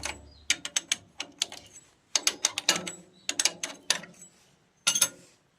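Rapid metallic clicking of a ratchet wrench working bolts off a power tiller wheel, several short bursts of ratcheting separated by brief pauses, close and crisp with no speech.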